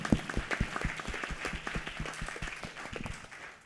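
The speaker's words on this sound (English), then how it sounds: "Shall we give a round of applause" Audience at a workplace and faith panel event claps for the panelists, a modest scattering of hand claps with distinct individual slaps over a few seconds, fairly close and moderately loud.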